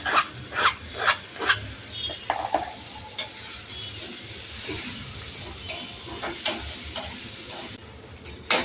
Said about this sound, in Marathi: इथे आपण आता टोमॅटो मऊ करून घेतलाय छान तेलामध्ये